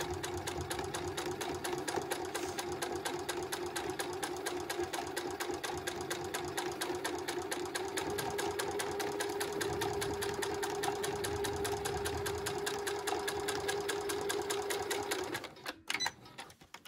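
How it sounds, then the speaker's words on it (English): A sewing machine runs steadily and rapidly while top stitching a zip fly, a continuous mechanical whir with fast needle clatter heard from a short distance, stopping abruptly near the end. "I might be doing a horrible top stitching job"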